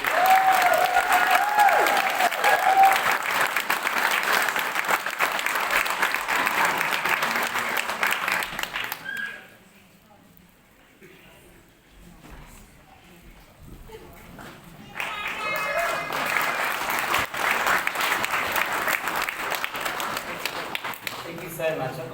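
Applause for graduates at a graduation ceremony, a long run of loud crowd clapping that drops away to a quiet pause before a second strong round of applause resumes.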